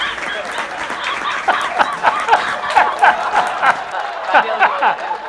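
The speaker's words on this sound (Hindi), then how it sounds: "तालियां तालियां, वाह वाह वाह" Audience at a Hindi comedy poetry gathering breaks into applause, steady clapping mixed with a few cheers and chuckles, sustained across the whole stretch at a lively, moderate level.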